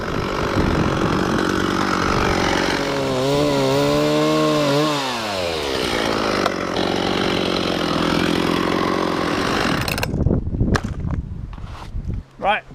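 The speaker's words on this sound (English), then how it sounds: "I was holding a chainsaw" A chainsaw roars up close while cutting a large windblown willow tree, its engine revving up and down for about ten seconds before cutting out, leaving a few scattered clicks and knocks.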